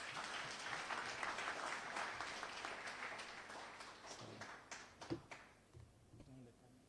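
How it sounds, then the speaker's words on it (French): A conference audience at a cybersecurity panel applauds the panelists, a quiet, distant patter of many hands that holds steady, then thins into a few scattered claps and fades out. "encore des acclamations nourries pour les panélistes"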